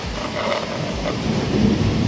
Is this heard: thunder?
yes